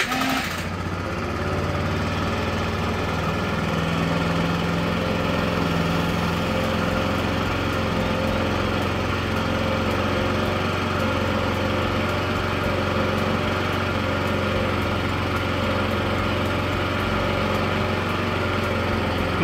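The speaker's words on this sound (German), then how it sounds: "müssen nur noch die Maschine starten" A scooter engine starts and settles into a steady, loud idle with a constant buzzing drone that runs close and unbroken.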